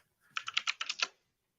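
A faulty computer keyboard whose T key fails or double-types is tapped in a quick, fairly faint burst of about seven keystrokes. No voice is heard over the keys.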